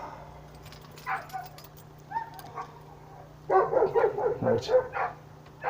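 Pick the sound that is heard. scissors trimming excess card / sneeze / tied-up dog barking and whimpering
tied-up dog barking and whimpering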